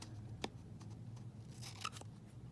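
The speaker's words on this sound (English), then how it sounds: "I'm just going to cut my corners." Scissors snipping the corners of laminated paper, a few faint, sharp cuts spaced apart in a quiet room.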